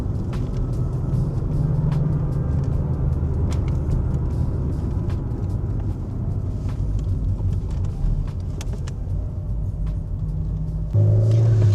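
A VW Corrado engine runs with a deep, throaty intake rumble, steady and close, swelling louder near the end.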